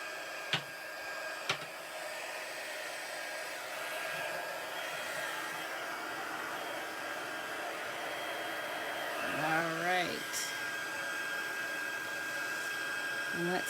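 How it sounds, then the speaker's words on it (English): A heat tool blows hot air during card making with a steady, loud whooshing drone. A couple of sharp clicks come at the start, and a voice speaks briefly over the noise near the end. "I'm going to bring in my heat tool"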